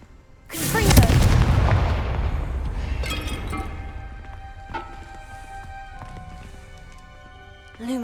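Confringo fire spell blasts in Hogwarts Legacy: a loud, close explosion bursts and rumbles, then fades into crackling debris and smaller impacts, with a further thump near the end.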